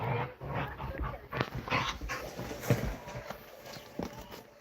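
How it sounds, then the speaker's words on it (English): Dogs fighting close by, with repeated sharp barks and snarls in irregular bursts over scuffling movement for about four and a half seconds. "I got a dog fight."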